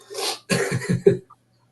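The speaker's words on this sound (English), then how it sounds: "I'm trying to sneeze." A person tries to sneeze: a sharp breathy inhale, then a series of strained, choppy vocal bursts ending in a short explosive release, close and fairly loud.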